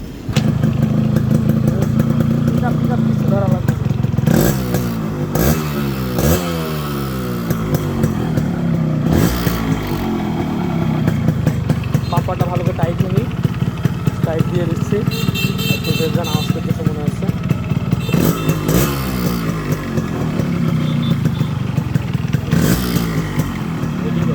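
A Yamaha RX 100 two-stroke motorcycle running nearby, its engine clattering and revving loudly in rising bursts while someone talks over it.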